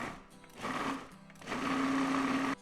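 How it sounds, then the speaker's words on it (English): A kitchen blender purees olive oil, black pepper and seasonings for an heirloom tomato salad dressing, a steady whirring motor in two bursts, the second longer and louder, heard alone without talk. "We'll blend it up, taste it,"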